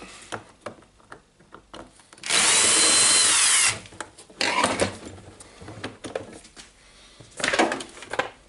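A power driver spins screws out of the casing of an old DeWalt DC011 work site radio, giving a loud whirring burst of about a second and a half, then shorter bursts amid handling clatter and knocks on the housing.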